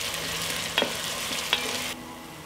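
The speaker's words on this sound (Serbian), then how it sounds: "Dodat ću i beli luk i sve ću propržiti dok luk ne omekša" Chopped onion and garlic fry in hot oil with a steady sizzle, broken by two sharp utensil clinks against the pan, up close with no talking.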